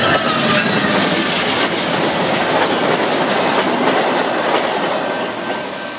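VIA Rail GE P42 locomotive 903 leads a westbound train past Oakville yard, a loud, steady roar of engine and clattering wheels that eases slightly at the end.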